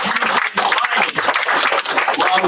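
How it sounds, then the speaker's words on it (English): A crowd at a post-fight boxing press event gives rapid, lively applause with a few scattered chuckles mixed in. "give a round of applause."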